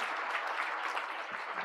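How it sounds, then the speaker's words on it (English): An audience at an ambassadors' conference opening session at the Safari Park Hotel in Nairobi claps steadily as the President walks in: a broad, even wash of many hands throughout. "You're welcome to give him a clap as he's walking in."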